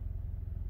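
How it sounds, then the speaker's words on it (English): Wheel scrubbers running in a Mark VII Aquajet XT car wash bay with on-board dryers, heard as a continuous low mechanical rumble with a steady churning pulse, close and loud throughout the brief moment. "The wheel scrubber's doing their job."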